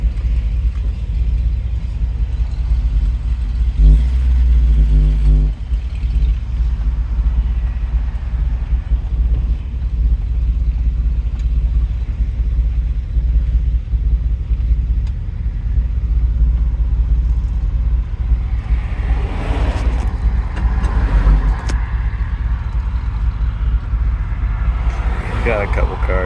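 A 1977 Ford F250 Super Cab pickup truck drives along, its engine making a steady low rumble that is mixed with wind buffeting and road noise.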